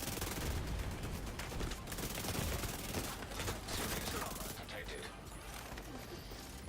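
Sustained automatic gunfire in The Division 2 crackles in dense, rapid bursts that are loud at first and thin out toward the end. A voice talks faintly beneath it.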